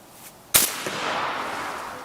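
A 12 gauge air rifle fires a slug into a pumpkin, one sharp close crack followed by a short spreading burst and fading rustle.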